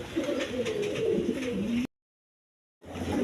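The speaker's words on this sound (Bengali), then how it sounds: "এইখানে এক পেয়ার সিরাজি লাহোরি কবুতর আছে" A pair of Sirazi Lahori pigeons at a breeding farm cooing close by in a continuous low, throaty murmur, which breaks off into a second of silence before resuming.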